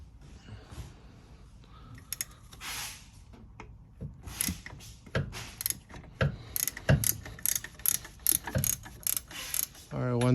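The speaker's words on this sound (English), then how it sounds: "remove this 14mm nut here before you remove the 12" A ratchet wrench loosening a 14mm nut on the rear differential mount of a Honda Element or 2002–2011 CR-V, with bursts of rapid clicking and metallic mechanical clatter, close and fairly loud, no talking.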